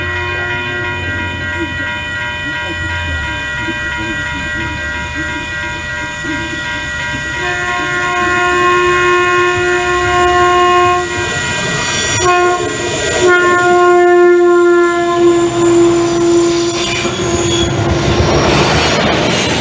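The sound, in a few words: Sprinter train approaching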